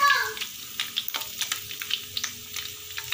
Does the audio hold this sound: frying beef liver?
yes